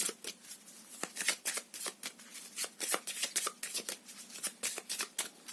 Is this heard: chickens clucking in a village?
no